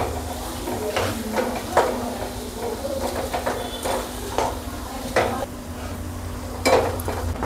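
Potatoes tossed with red chili powder are stirred in a pan, with repeated scraping and clinking strokes of a spoon against metal over a faint steady hum.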